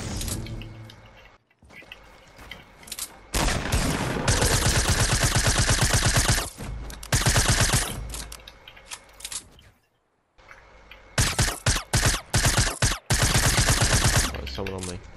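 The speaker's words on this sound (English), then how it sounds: "Fuck me, I've got a heavy shotgun now." Heavy shotgun blasts in a video game, loud repeated booming shots in dense bursts with short silent gaps between, a voice faintly heard under the firing.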